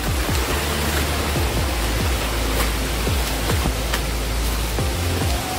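Heavy rushing water at Savatkada waterfall near Murud, a loud, steady broadband roar with no break, running alone without voices.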